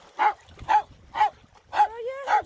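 A wet terrier being cleaned off after a mud run gives five short, evenly spaced whimpering yelps, close and clear, with faint handling noise between them.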